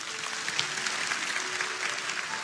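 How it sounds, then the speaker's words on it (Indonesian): A church congregation claps for Jesus in dense, sustained applause, loud and even throughout, with no speech over it. "Kasih tepuk tangan untuk Tuhan Yesus"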